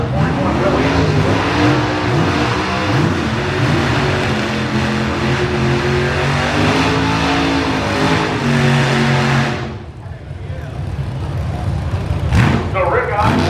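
A 1938 Chevy pickup truck roars at a drag strip during a nostalgia drag racing event, its engine loud and revving, then suddenly cutting away, with an announcer talking throughout.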